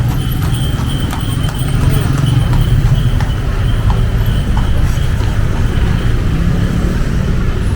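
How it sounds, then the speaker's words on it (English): Hooves of a horse-drawn carriage clip-clop on a busy street in Yogyakarta, Indonesia, a steady close rhythm of hoof strikes over traffic hum and crowd noise, with voices talking nearby. "Wow, that's a horse carriage right in front of me."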